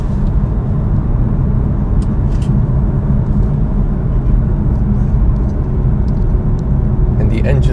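A 2018 BMW M2 Coupé engine pulls hard under acceleration, a deep, loud, continuous rumble heard from inside the car. A voice sounds over it.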